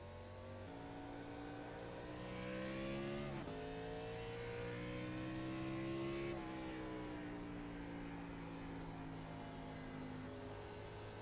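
A race car in an iRacing National Cup Series race at Richmond roars steadily, its engine climbing in pitch through gears with two sharp shifts, alone and fairly loud throughout.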